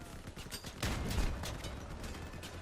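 Gunfire in the vehicle combat game Crossout comes as rapid mechanical bursts and rattling shots, quiet and somewhat distant, with a denser flurry partway through.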